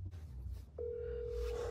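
A phone call goes out to a best friend: after a short muffled lead-in, a single steady telephone tone sounds clearly and holds without a break.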